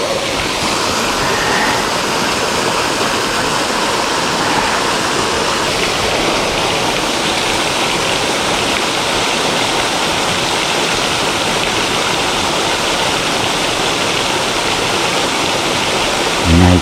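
A small waterfall pours into a plunge pool on a mountain stream during autumn stream fishing on Sado Island, giving a loud, close, steady rushing roar of falling water that continues without a break and with no talk over it.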